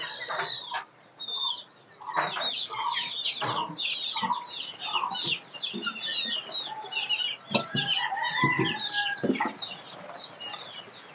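Several local-breed chickens cluck and squawk close by in busy, overlapping bursts, with a few short pauses and louder cackles near the end.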